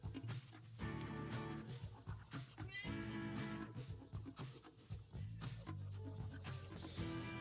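Faint cat meows sound from a video game MMORPG written in Go, a few short tonal cries rising above soft background game sounds and light clatter.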